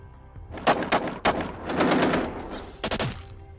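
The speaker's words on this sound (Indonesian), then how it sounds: "dan kemudian terjadilah baku tembak" A shootout in a war film soundtrack: several sharp gunshots ring out, followed by a dense burst of rapid fire and then a few more isolated shots.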